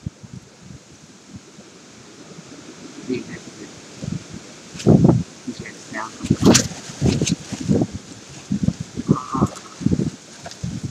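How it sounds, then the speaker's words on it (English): A strong outdoor wind gust buffets the microphone in rising, rumbling bursts with rustling, growing louder toward the end. "Let's just wait for one more big wind gust."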